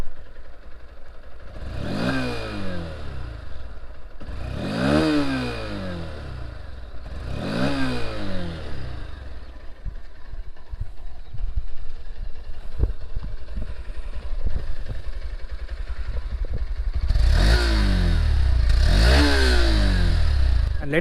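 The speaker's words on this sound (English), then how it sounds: "The engine sound is very refined." A Honda X-Blade BS6 motorcycle engine revs sharply three times in a row through its exhaust, drops to a rough idle, then revs twice more, loud and close.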